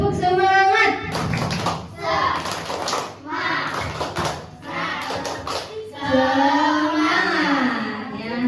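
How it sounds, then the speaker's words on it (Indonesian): A rhythmic group spirit clap from an audience at a Pancasila character-building session, bursts of clapping in short patterned phrases with young voices chanting and talking between them. "Tepuk semangat."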